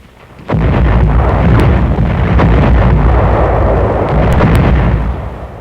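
Heavy artillery firing in a wartime combat setting, a loud continuous roar of booming blasts that starts abruptly after half a second and rumbles on without a pause, with a few sharper cracks on top.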